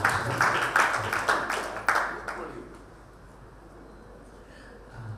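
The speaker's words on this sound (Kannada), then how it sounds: "ಅವರಿಗೆ ತಮ್ಮೆಲ್ಲರ ಚಪ್ಪಾಳೆ ಮೂಲಕ ಧನ್ಯವಾದಗಳು" Audience applause at a literary conference session in Kannada, a burst of dense clapping that runs for about two seconds and then fades out, leaving quiet room tone.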